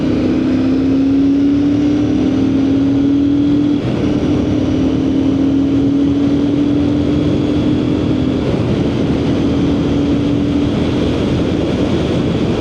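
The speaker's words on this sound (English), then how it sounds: "Steering this motorcycle is relatively easy." A Royal Enfield Shotgun 650 motorcycle is ridden along with a steady, loud engine hum and rushing wind noise that hold unbroken and even throughout, with no talking.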